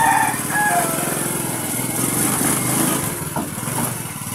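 A Bajaj 125 motorcycle, troubled by an engine that won't keep running, idles right after a kick start with a steady, close, buzzing putter.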